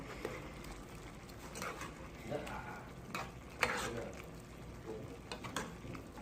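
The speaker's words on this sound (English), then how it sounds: "Let me just stir it here." Trinidadian pigtail pelau being stirred in a pot, with irregular spoon scrapes and knocks over a low simmering sizzle and one sharper clack midway.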